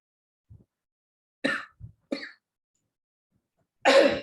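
Several short coughs separated by silence, with a couple of soft throat sounds between them and a heavier cough at the end.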